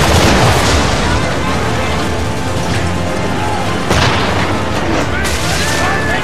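Naval cannon fire in Assassin's Creed 3, heavy booms rolling out over a dense, continuous battle din while voices shout in the background.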